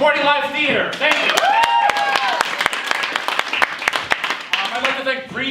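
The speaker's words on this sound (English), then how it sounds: "give yourselves a round of applause for supporting live theater." Audience at a live theater show claps in a brisk round of applause with distinct, close handclaps. A voice is heard speaking at the start and again as the clapping ends.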